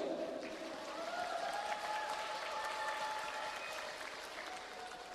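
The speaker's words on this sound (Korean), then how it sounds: "다시 한번 응원하러 오신 분들 응원의 박수 한번 주세요" Audience applause cheering on contestants at a Korean quiz competition held during a festival, a steady, fairly faint wash of clapping from a crowd that holds for several seconds and slowly eases off.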